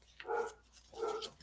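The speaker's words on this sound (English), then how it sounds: "sorry about the dogs barking" Finn, a puppy, barks twice from a distance indoors, two fairly faint yaps about a second apart with quiet between them.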